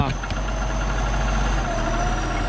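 A 7840 tractor ploughing in gear M2 through old rubber-plantation ground, its loud steady diesel drone continuous and close throughout.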